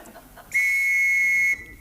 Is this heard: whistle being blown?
yes